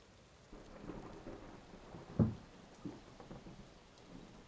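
A heavy rain and thunder effect plays alone, a soft steady downpour hiss under a low rumble with one sharp thunder crack near the middle and a fainter rumble after.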